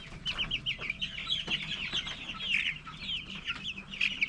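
A batch of about 500 chickens in holding pens clucks and chatters continuously, a dense overlapping flock sound at close range with no talk.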